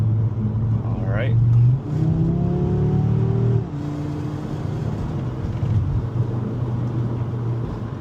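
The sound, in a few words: Audi RS3 car driving over bumpy road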